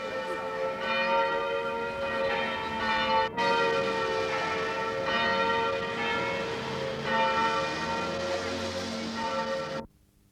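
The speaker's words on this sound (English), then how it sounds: "church bells rang out in protest all over the Republic" Church bells in South Africa peal continuously in protest with rich, layered harmonic tones, ringing loudly for about ten seconds before stopping abruptly.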